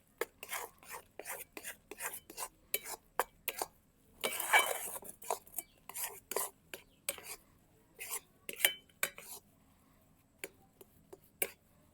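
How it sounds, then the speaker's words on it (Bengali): Semolina mixed in a bowl for gulab jamun, heard as close, irregular clinks and scrapes of a utensil against the bowl with a short gritty rustling burst midway, then sparser taps. "এবারে ভালো করে মিশিয়ে নেবো এটাকে।"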